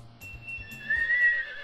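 A horse neighs in the video game Harvest Moon 64, a short whinny rising over a rhythmic clip-clop of hooves, fairly close and clear with no talking.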